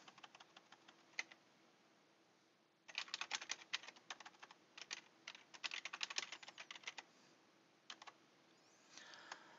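Computer keyboard keys clatter in close, irregular bursts of typing, with quieter stretches and short pauses between flurries and a faint steady hum beneath, while keys reportedly misbehave under recording software.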